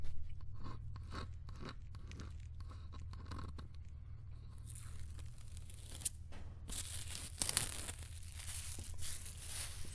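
Protective film being peeled off a carbon fiber foam composite panel for a trailer, heard as a steady crackling, tearing strip-off with crinkly bursts growing brighter and louder toward the end, close by with no talk.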